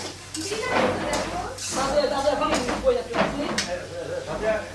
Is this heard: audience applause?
no